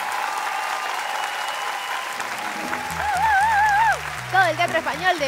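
A Got Talent Uruguay theatre audience applauds steadily after a tango performer's bandoneón audition; the dense clapping is then joined by sustained bandoneón-like tones and a singing voice.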